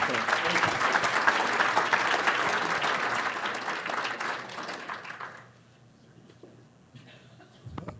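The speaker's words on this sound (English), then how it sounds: "One more round of applause for Clarence." Loud, dense applause from a weekly meeting audience honoring a member fills the room for about five seconds, then drops abruptly to quiet room tone with a few faint stray sounds.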